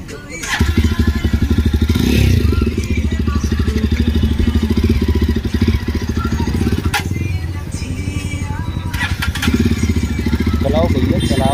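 Yamaha R15, Yamaha MT15 and Jawa motorcycles race together in Agra, their engines roaring loud and steady up close throughout, with a throttle swell near the start and voices talking over the din.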